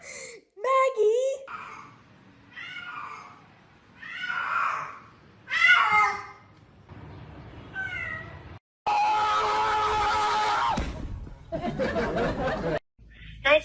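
A cat meows repeatedly in short, rising calls, some drawn out into yowls, mixed with bursts of human speech and laughter between and over them, fairly close and indoors.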